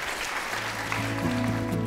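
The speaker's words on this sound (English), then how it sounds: "Quick round of applause for our 4 amazing clinicians." A conference audience applauds a panel of four clinicians with a steady wash of clapping, while a low musical tone rises underneath partway through.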